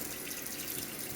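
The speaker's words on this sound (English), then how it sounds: "But I'm going to run the water." Water runs from a kitchen tap into the sink in a brief, steady, fairly quiet rush.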